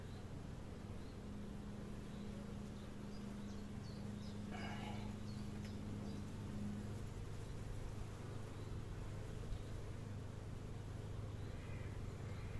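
Steady, continuous drone of many honeybees buzzing close by on a drone-comb hive frame during a spring hive inspection, a low hum that holds level throughout with faint background noise.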